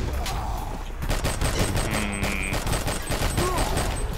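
Dense, steady gunfire from shooting enemies in the video game R.I.P.D., with sharp repeated bursts that run through the whole stretch alongside other game effects.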